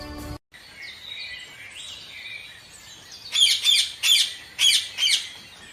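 A parrot calls close by in five sharp, squawky chirps in quick succession after a faint warbling tone, with no talk.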